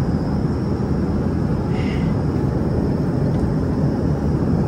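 Inside an airplane in flight during turbulence, a steady, loud engine and cabin roar drones without a break, with no clear talking.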